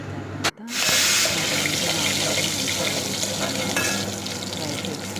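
Vermicelli and dry fruits frying in a pan for payasam, a loud, dense sizzle that starts abruptly after a brief clatter and then crackles steadily and close throughout.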